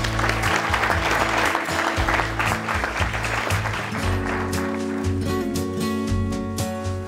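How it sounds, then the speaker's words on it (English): Wedding guests at a Banff Springs ceremony clap for the newlyweds, continuous lively applause over music that carries on underneath. "Let's give them a clap."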